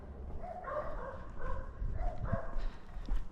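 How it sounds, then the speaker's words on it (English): Several dogs bark at night in a city setting, somewhat distant and muffled, in irregular bursts over low background noise. "The dogs are barking."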